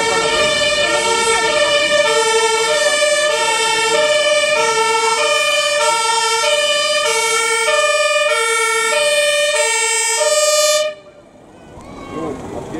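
A Berlin fire engine's siren wails loudly and steadily in a repeating two-tone pattern for about eleven seconds, then stops suddenly.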